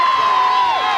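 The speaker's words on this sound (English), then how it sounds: "What a crowd here tonight." A loud crowd cheers and shouts at a 1996 night high school football game between John Glenn and Sheridan, a close, sustained roar with a prominent high, drawn-out yell riding on top.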